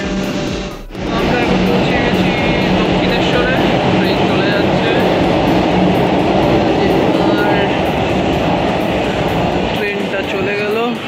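A train passes close by with a loud, steady rumble and clatter that fills the whole stretch. Voices are mixed in under the noise.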